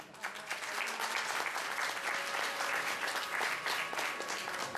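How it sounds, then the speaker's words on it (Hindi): Sustained, dense applause from an audience at a Sindhi devotional singing performance in Mandal Garh, Rajasthan, clapping steadily and fairly loudly throughout with no voices over it. "ये तालियूं तालियूं सिंधी जूं असांजे तालियूं आहिनि"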